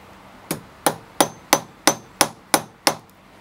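A flat blade taps a part into a sealed brass padlock, eight sharp, evenly spaced metallic knocks that are close and distinct, with no voices.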